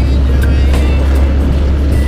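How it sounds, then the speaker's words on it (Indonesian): Steady low engine rumble of traffic on a narrow road near the Tuntang river bridge in Demak, Indonesia, with a big truck ahead, heard from inside a moving vehicle as a constant loud drone. "depan ada truk besar ya."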